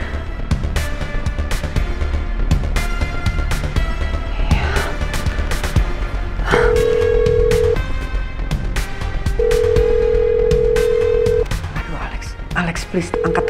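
Phone call ringing unanswered, a steady tone sounding in long repeated beeps beneath ongoing music and background noise while someone speaks.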